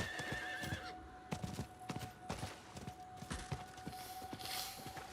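A horse whinnies loudly near the start while hooves clip-clop in a steady walking rhythm, from riding a steed in the video game Diablo IV, with faint game ambience and a tonal hum underneath.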